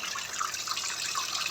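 Tap water running for washing small vegetable leaves, a steady hissing splash from a faucet with faint drip-like spatters, close and continuous, with no talk.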